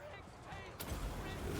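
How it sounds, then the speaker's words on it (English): A burst explosion in Total War: Warhammer 3 battle among crossbowmen, a sudden broad blast that swells and rumbles on under ongoing battle noise. "A little explosion, that should probably break those crossbowmen in a second"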